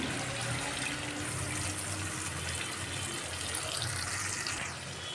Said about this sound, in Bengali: মশলাটার বাটি ধুয়ে সামান্য পরিমাণ জল দিয়ে দিচ্ছি